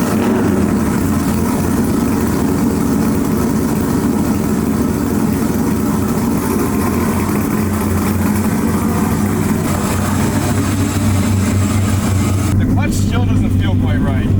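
An LS1 V8 in a Chevrolet Silverado with a T56 manual drones loudly and steadily while driving, a dense low rumble running continuously throughout with a brief change in tone near the end.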